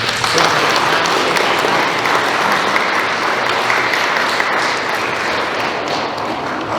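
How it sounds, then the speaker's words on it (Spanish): A crowd at a wedding ceremony applauds steadily and loudly, sustained clapping from many hands that continues without a break. "Acogimos a esta pareja de esposos con un caluroso voto de aplausos"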